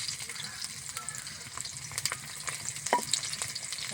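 Chopped chili, onion and crushed garlic fry in oil in a wok, giving a soft, continuous crackling sizzle with intermittent stirring scrapes, close but quiet.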